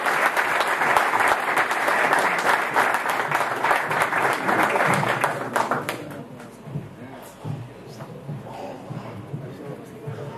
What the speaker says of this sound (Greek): Ένα χειροκρότημα θα ήθελα για τους γονείς του Στέργου